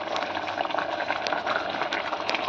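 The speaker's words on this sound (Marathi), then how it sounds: "तर इथे छान अशी उकळी आली होती" Chana dal and jaggery simmering at a full boil in a pot, a steady close bubbling and gurgling with soft pops, continuous throughout without voices.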